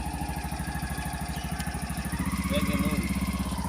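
A small vehicle engine runs steadily at close range after starting, with a fast, even pulsing idle that rises slightly as gear is engaged.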